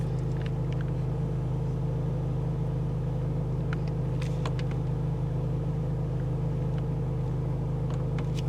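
A 2023 Mercedes-AMG SL 43 cruises along back country roads at night, its engine and tyres making a steady low rumble from inside the cabin, with a few faint clicks over the continuous drone.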